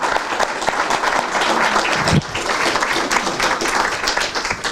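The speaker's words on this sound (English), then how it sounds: "Let's give him a round of applause." Loud, dense applause from an audience at a consolidated dispatch center awards event, steady sustained clapping throughout with no speech over it.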